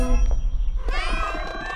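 In the Slovenian-dubbed animated Puss in Boots: The Last Wish, a single drawn-out meow rises close and clear after a low rumble, voiced by a person imitating a cat.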